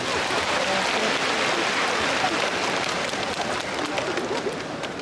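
An audience at a Hangzhou concert gives a warm round of applause, a dense, steady wash of clapping that holds at full strength and eases slightly toward the end.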